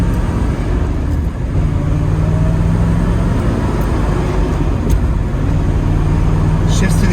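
A 1973 Chevrolet Corvette with a 4-speed manual drives along with the T-tops on, giving a steady, loud interior rumble of engine and road noise heard from inside the car.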